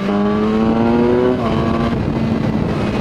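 A BMW S1000R sport motorcycle engine hums steadily nearby, its pitch rising briefly then settling into a constant buzzing drone.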